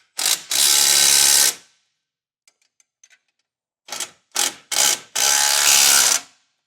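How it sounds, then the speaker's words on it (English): Socket ratchet tightening 19mm bolts on a base plate kit for a Jeep, giving loud, rapid clicking bursts. A long run of clicks is followed by a pause with faint taps, then several short strokes and another long burst, all close up. "you'll need a socket on one side and a wrench for those long ones."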